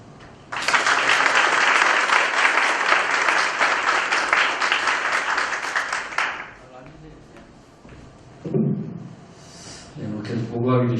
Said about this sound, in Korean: 여러분과 힘찬 박수로 맞이하겠습니다